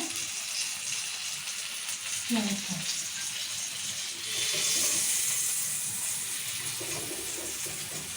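Masala-coated fish pieces shallow-frying in a little oil, a soft continuous sizzle and hiss at moderate distance, with a swell of steamy crackle midway and faint background voices.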